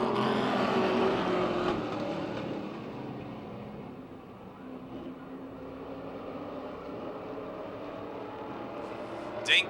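Stock cars racing three wide down the back straight at Motordrome Speedway, a loud continuous engine roar from the passing pack that eases slightly mid-pass, with a race announcer talking over it.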